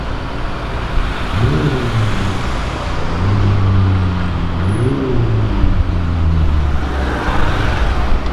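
A McLaren sports car passes close by on a city avenue, its engine rising and falling in pitch over steady roadway noise, with a loud, continuous drone throughout.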